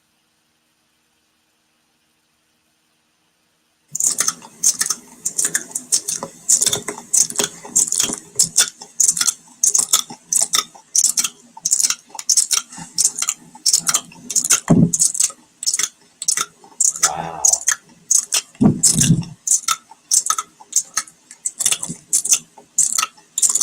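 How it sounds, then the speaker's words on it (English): ASMR mouth sounds: a quick, irregular stream of close, crisp wet clicks and smacks begins after a few seconds of silence, with a couple of brief heavier thumps mixed in and one short spoken exclamation. "We're gonna play ASMR mouth sounds."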